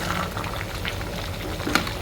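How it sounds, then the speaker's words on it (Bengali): Mutton curry with yogurt, poppy seed and almonds simmers in a covered pot on a lowered flame, a soft continuous bubbling and sizzling with a small pop near the end. "এখন ঢেকে দিব মাংস সিদ্ধ হওয়ার জন্য"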